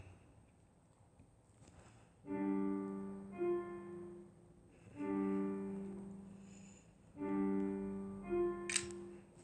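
A camera takes a photo in a quiet room: three separate bursts of tonal, buzzing mechanical whirring, each about two seconds long, with short clicks between them.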